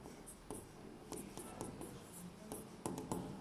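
Pen scratching out a point in notes during a quadratic equations lecture, a run of quick close strokes and taps with short pauses between them, faint room tone behind and no talk over it.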